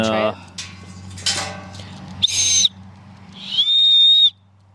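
A small whistle blown several times in short, shrill bursts, the last one held longer, with brief pauses and a low hum underneath.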